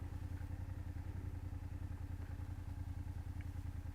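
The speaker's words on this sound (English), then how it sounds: "So I'm basically just doing like slow speed maneuvers," A BMW F800GS motorcycle doing slow-speed practice maneuvers, its parallel-twin engine puttering at a low, steady, rhythmic idle-like beat, fairly faint and unbroken throughout.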